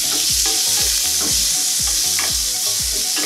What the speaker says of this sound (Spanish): Lo vamos a colocar dentro de nuestra sartén.